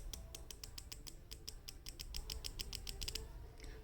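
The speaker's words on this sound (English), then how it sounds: "So the bezel on this one, it is a 120 click unidirectional." A San Martin SN044 dive watch's 120-click unidirectional bezel being turned, a rapid run of small crisp clicks, close and fairly quiet, alone without talk.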